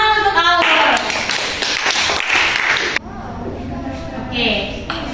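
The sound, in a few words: classroom applause for student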